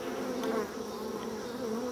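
Honey bees buzz steadily over a hive frame holding queen cells and larvae, a dense, close, continuous drone with no voices.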